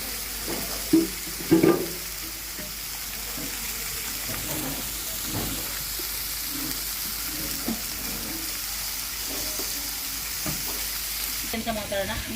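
Marinated fish fries on a hot tawa with a steady close sizzle running throughout, broken by a few brief stirring knocks and faint background noises, no one speaking.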